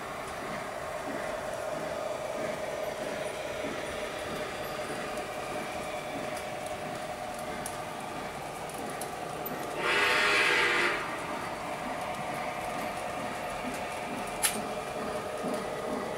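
A locomotive runs through a double wye track with a steady, even mechanical hum, interrupted by a brief louder hiss partway through and a single sharp click near the end.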